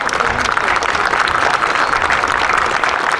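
A crowd at the WE Pride Fest 2022 flag raising in Windsor breaks into steady applause, a dense wash of clapping that holds evenly throughout, with faint voices mixed in.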